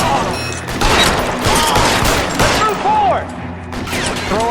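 Heavy gunfire in the 1940s Los Angeles crime game L.A. Noire: a loud, sustained fusillade of overlapping shots and rapid bursts near at hand, with ricochet whines cutting through the barrage.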